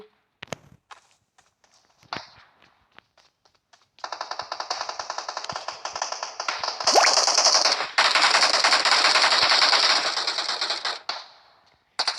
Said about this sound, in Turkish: Burada fişek sesi geliyor tak tak diye